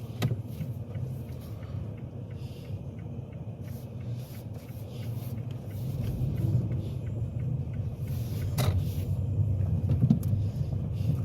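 Car being driven on a road during a driving test, a steady low engine and road rumble that swells gradually louder toward the end, with no talking.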